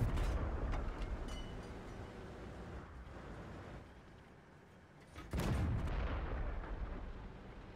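Heavy tank cannon fire in a World of Tanks-style battle on the Westfield map: booming blasts with rumbling low-end tails, a strong report near the start and another loud boom around five seconds, with battle noise between.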